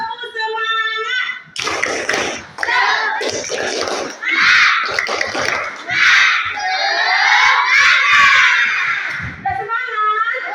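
A classroom of schoolchildren shouts a rhythmic clapping chant together, loud and close, with bursts of voices and claps in quick succession and an adult voice briefly before and after.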